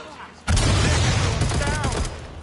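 Gunfire in the action game Watch Dogs: Legion erupts suddenly as a loud, sustained volley of overlapping shots, with shouting voices mixed in.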